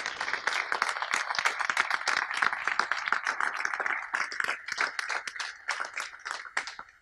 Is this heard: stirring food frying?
no